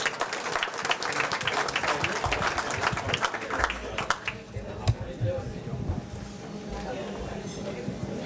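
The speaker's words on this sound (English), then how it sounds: "Let's give him a round of applause" Applause from guests at a wedding reception, a dense patter of clapping that is loudest early and tapers into a softer, scattered spread as people talk underneath.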